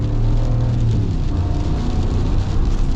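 Steady broadband road and tire roar inside a 2023 Ram 1500 Rebel pickup cruising in two-wheel drive, a constant loud hum with low rumble, no talking.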